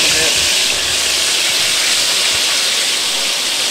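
Chicken frying in very hot grease gives a loud, continuous hiss and crackle, steady and close throughout with no pauses.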